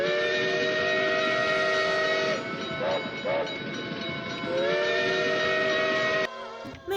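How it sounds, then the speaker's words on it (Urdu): A train rolls steadily along the rails with a loud, continuous rumble and sustained whistle-like tones that shift in pitch partway through, fading somewhat before a sudden change near the end. "ٹرین اپنی ہی رفتار سے چل رہی تھی۔"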